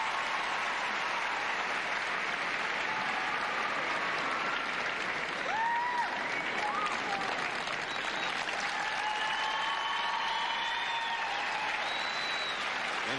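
Sustained applause and cheering from a large arena crowd at a 1996 figure skating exhibition, a steady broad roar of clapping with a few whistles rising above it throughout.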